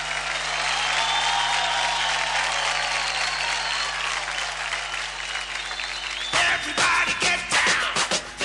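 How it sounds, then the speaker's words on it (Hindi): A studio audience at a kids' dance show claps loudly and continuously for dancers Dharmesh and Amrita, a dense sustained roar of applause that turns choppier toward the end. "जोरदार तालियां हो जाएं स्किपर्स धर्मेश सर और अमृता के लिए"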